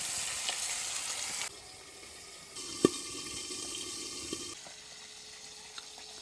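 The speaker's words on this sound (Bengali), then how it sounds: "মাছগুলো খুব ফাটছে, ঢাকনা খোলা যাচ্ছে না।" Oily pangas fish frying in a covered pan, a steady hissing sizzle that shifts in level several times, with occasional sharp pops of spattering oil, close and fairly quiet.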